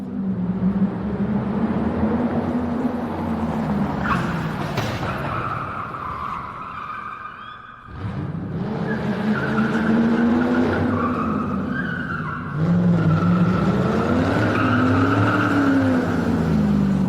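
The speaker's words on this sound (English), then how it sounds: "Gene, I want to show you the footage of, well, this is Vince McMahon driving" A car driven by Vince McMahon weaves in and out of traffic with loud, continuous engine roar and repeated long tire squeals and skids, close up.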